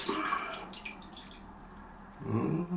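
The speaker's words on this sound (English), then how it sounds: "a few drips" Water drips and splashes from a sink tap during a traditional wet shave with a straight razor, a few close trickles and drops in quiet surroundings.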